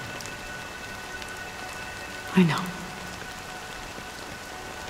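Steady rain pours down in the video game Honkai Star Rail, a dense, even hiss lasting throughout, with a brief spoken voice and a soft thump near the middle.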